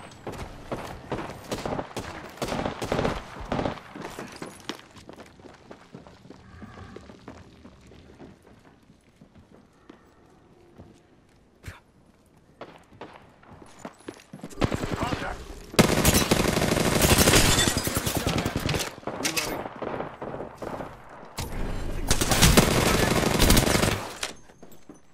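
Rapid automatic gunfire in the video game Apex Legends, with bursts crackling on and off, then heavy, sustained volleys near the end, loud and close, with occasional voices mixed in.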